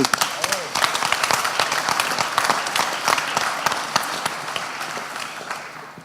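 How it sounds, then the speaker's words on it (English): A business conference audience applauds, with many hands clapping steadily and some sharper individual claps standing out, easing slightly toward the end. "And I think a round of applause for those guys."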